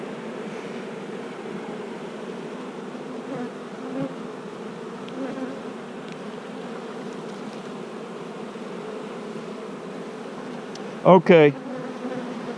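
Honeybees bringing in bright orange pollen at the hive, a steady dense buzz filling the whole stretch, with a brief spoken word near the end.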